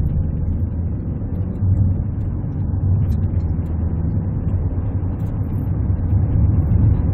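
Inside a Hyundai Tucson 1.6 turbo petrol with upgraded intake and exhaust, a steady low engine drone and road rumble build slightly as it accelerates, with no voices.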